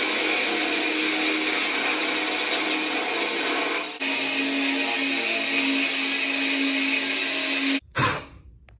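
Power saw cutting through a steel Harley-Davidson Softail motorcycle frame, a loud steady grinding rasp that cuts out briefly midway, resumes, then stops abruptly near the end.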